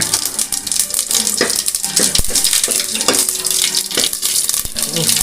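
Loud, steady sizzling and crackling of mustard seeds and a dried red chili frying in hot oil, with a few sharp pops and occasional clinks of a pan.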